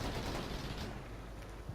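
Dense, rapid gunfire from Combat Mission: Shock Force 2 crackles continuously at moderate distance, a steady sustained fusillade with no pauses and no voices.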